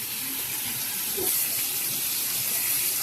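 Water from a tap pours steadily over freshly cut bitter gourd being washed in a sink, a close, constant gushing rush with no voices.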